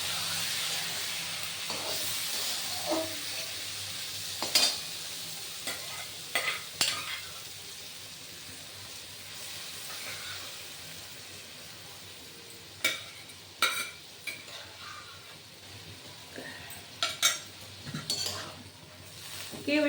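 A ladle stirs a vegetarian tarka of boiled vegetables in a pan with a steady scraping and soft sizzle, with occasional louder clinks of metal against the pan, and no talk.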